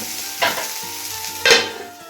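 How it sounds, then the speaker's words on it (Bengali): Potatoes stir-fried in a pan on a gas stove at home, with a constant sizzle under two sharp scraping stirs of the spatula, close and fairly loud, no voices. "আমি আলু ভাজা বসিয়েছি ছেলে পড়তে গেছে এসে খাবে তার জন্য বলুন না গ্যাসে রান্না করছি"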